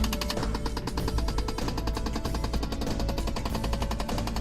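Rapid mechanical ticking from a faulty HVAC blend door actuator behind the dash of a 2007 Hummer H3, a loud, fast, even clicking that continues without pause.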